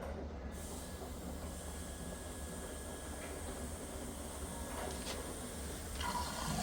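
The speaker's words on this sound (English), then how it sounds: "See, still water take into the machine." An LG washing machine showing a PE error fills with water, a faint continuous rushing flow with a low mechanical hum and a few soft clicks near the end.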